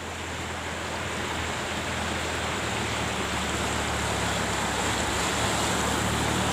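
Floodwater flows across a village road in a constant broadband rush, steady and fairly loud, with no break and no voices.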